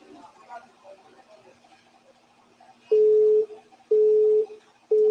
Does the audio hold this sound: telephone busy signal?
yes